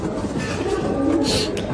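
Rampuri pigeons cooing close by, soft low rolling coos over a steady background murmur, with faint chatter nearby.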